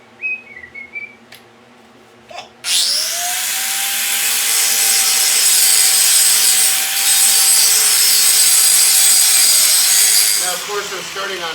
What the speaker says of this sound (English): I think I gotta get the grinder out.